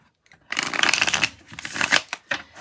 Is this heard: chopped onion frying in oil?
no